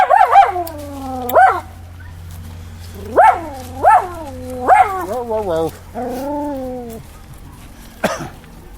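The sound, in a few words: dogs barking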